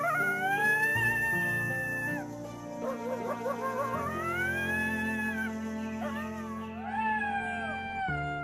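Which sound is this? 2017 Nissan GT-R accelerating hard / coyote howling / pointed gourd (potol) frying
coyote howling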